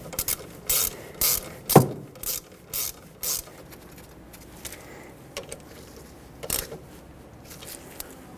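Ratchet clicking in short bursts while snugging rear brake caliper bolts on a 2006-2010 Hyundai Sonata, about a dozen quiet, close ratcheting strokes separated by brief pauses.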